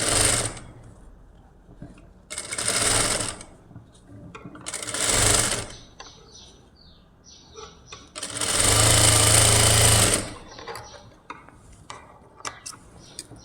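Sewing machine stitching the seams of a lined blouse, running in three short bursts and then one longer steady run of rapid mechanical whirring, with quiet pauses between the runs.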